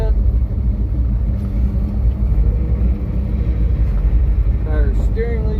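A Ford F250 truck with a 347 stroker engine driving along, a loud, steady, close engine rumble and road drone, with a voice briefly speaking near the end.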